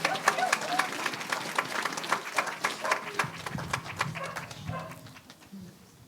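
A dog barks in sharp, repeated bursts outdoors at a community hospice remembrance gathering, mixed with crowd noise and voices nearby, continuing steadily for several seconds.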